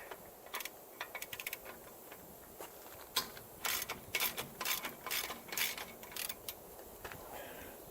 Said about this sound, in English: So obviously socket and a wrench does the job here.